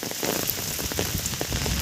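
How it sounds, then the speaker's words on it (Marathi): Steady rain pattering on open ground, a dense continuous hiss with scattered drop taps, no voices. "पाऊस पडला तरी काय टायमिंग झालं"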